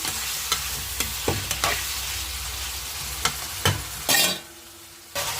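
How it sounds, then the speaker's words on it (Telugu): Mutton liver fries in oil with a steady, fairly loud sizzle, punctuated by several sharp spatula scrapes and taps against the pan, and the sizzle drops away briefly near the end. "కొద్దిసేపు ఆయిల్లో బాగా మగ్గి బాగా ఫ్రై అయిన తర్వాత"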